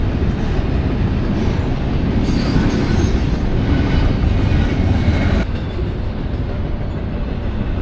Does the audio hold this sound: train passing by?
yes